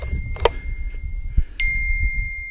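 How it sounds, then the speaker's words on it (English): A mobile phone sounds short bright notification chimes and a sustained tone as messages arrive in the remote South Australian and Northern Territory outback, heard close over low background rumble. "you can probably hear the phone going off"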